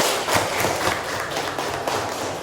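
A classroom of children claps hands during a lesson, a dense burst of clapping that rises early and then holds steady, close and lively, with no voices over it.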